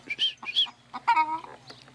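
A farmyard hen clucks close by in a quick series of short, bright calls, one drawn-out note in the middle, with no talking.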